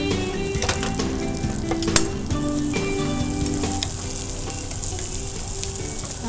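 Sliced onions sizzle in hot oil with whole garam masala spices (cinnamon, cloves, caraway, cardamom) while cooking mutton tomato pulusu, giving a steady loud crackling fry with a few sharp pops and stirring scrapes, no voices.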